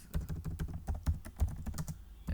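Python code being typed on a computer keyboard, with a close, steady run of soft key clicks in an uneven rhythm and a few heavier keystrokes, with no talking.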